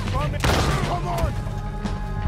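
Gunshots ring out during a Red Dead Redemption 2 shootout: a sharp, loud burst of fire followed by fainter follow-up cracks over a rumbling game soundtrack.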